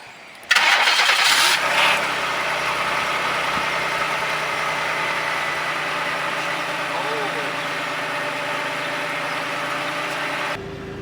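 A 1995 Chevrolet Monte Carlo engine cold-starts on a snowy day: a brief cranking burst, then the engine catches and settles into a steady, fairly loud idle until the end.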